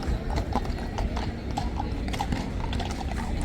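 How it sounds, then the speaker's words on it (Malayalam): Horse hooves clip-clopping on hard ground at a tourist horse ride in Malaysia, a steady run of close, distinct hoof knocks over faint background murmur. "മറ്റേ അപ്പുറത്തെ കുതിര ഇറങ്ങി."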